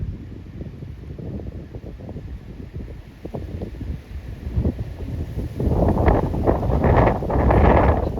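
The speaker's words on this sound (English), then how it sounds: "That wind is something else." Strong wind buffets the microphone outdoors in a low, roaring rumble that swells and gusts louder toward the end, with rustling in the background.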